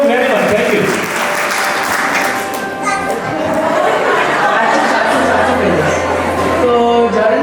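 Steady, loud applause from a gathered audience at a celebration for Akash's gastroenterology match, continuous clapping mixed with chatter and some children's voices, close and sustained throughout.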